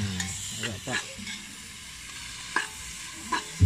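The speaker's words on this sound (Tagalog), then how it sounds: "Nagisa na po siya ng bawang." Garlic sautés in a pan, a soft sizzle under a few scattered clinks and scrapes of a utensil, fairly quiet and close.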